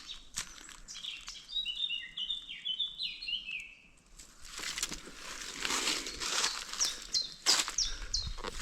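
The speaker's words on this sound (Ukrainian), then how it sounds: "Ох, і пташки співають." Birds chirp and trill in short bright phrases in a spring forest, fairly faint, followed by rustling and crunching footsteps through undergrowth.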